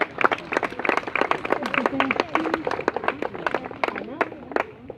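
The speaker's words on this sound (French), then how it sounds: "je pense qu'on peut applaudir bien fort notre ami Flora" An audience at the Amiens zoo claps for Flora the sea lion: scattered, uneven hand claps ring out over a few seconds, mixed with voices talking nearby.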